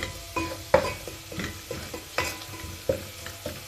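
Garlic frying in a pan for a molokhia dish, a soft continuous sizzle broken by repeated stirring scrapes and utensil knocks at an uneven rhythm, close by.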